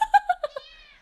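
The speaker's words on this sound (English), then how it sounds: "It's my cat." A pet cat named Tiny gives a quick series of short, close meows that end in a longer trailing call, loud and clear in an otherwise quiet room.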